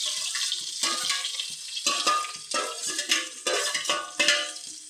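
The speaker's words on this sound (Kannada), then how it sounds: "ಸ್ವಲ್ಪ ಫ್ರೈ ಆಗಲಿ ಇದು." Onions frying in a pan for a horse gram bassaru, with a bright sizzle and repeated stirring scrapes, close and fairly loud, with no one speaking.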